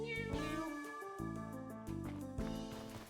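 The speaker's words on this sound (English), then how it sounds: "that cat said meow, wee wee wee wee." Cats meow repeatedly in a video game, a run of tonal, almost human-sounding cries in steady succession with game music or ambience underneath and no talking.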